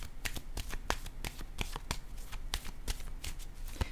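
Tarot cards handled and shuffled during a French-language reading, quick crisp flicking riffles repeating close by at an even pace, no talk.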